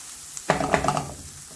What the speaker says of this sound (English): I will continue to saute this until it gets a bit translucent